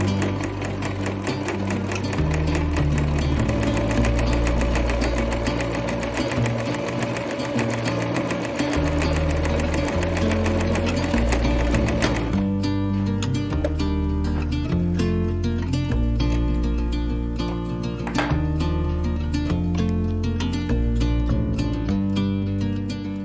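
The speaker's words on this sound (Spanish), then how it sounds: "lo vamos a poner en la máquina y vamos a ir haciendo una puntada. Con la puntada recta vamos a coser." A sewing machine runs a straight-stitch reinforcement seam on a cotton makeup-remover pad, a rapid steady mechanical chatter up close that goes on without a break, with no talk.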